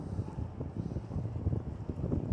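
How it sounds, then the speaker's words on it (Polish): A small boat passing by on the water outdoors, a low rumbling wash mixed with gusty wind noise buffeting the microphone, steady and moderately loud throughout, with no speech. "O, proszę, wjeżdża łódka, prowadzimy łódkę"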